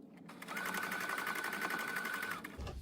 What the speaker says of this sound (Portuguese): daí sim eu vou costurar sempre alinhando meu tecido aqui no pezinho da máquina